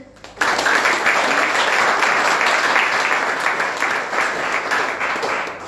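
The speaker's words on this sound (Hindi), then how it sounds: "अब एक काम कीजिए, अब ताली बजाइए।" A crowd claps continuously for several seconds, a dense, steady burst of applause that fades slightly toward the end.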